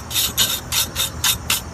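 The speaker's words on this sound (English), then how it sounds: "I'm gonna just take a wire brush here." Close rasping strokes of a wire brush scrubbing dirt off a lawn mower blade, about six quick back-and-forth passes in a steady rhythm, clear and alone.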